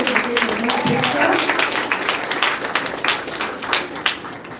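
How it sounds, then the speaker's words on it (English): Applause from an audience at a Year 6 girls' transition ceremony, a dense patter of clapping mixed with voices that fades slightly toward the end. "Can we have a round of applause for the girls as we take the next picture?"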